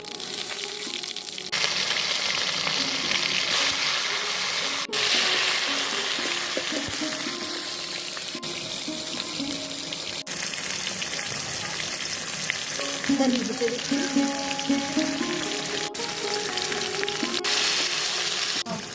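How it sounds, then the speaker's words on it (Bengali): Bay leaf, dried red chilli and cumin sizzle in hot oil in a pan for winter vegetable khichuri as tomatoes go in, a loud, steady frying hiss running throughout with brief flares of crackle and stirring scrapes. "তেজপাতা, শুকনো লঙ্কা দিয়ে দিলাম, জিরে দিয়ে দিলাম, এবার টমেটো দিচ্ছি।"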